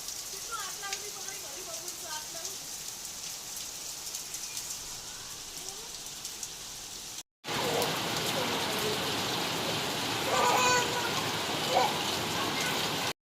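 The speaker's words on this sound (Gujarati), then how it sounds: "9 વાગ્યાનો એક જ ધારે વરસાદ પડે" Heavy rain pours continuously in a thick, even hiss; after a brief cut it returns louder, with a voice speaking underneath.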